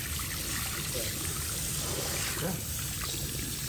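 Cold water running steadily through hair to rinse out conditioner during a shampoo, a continuous close pouring and trickling wash with a brief spoken word over it.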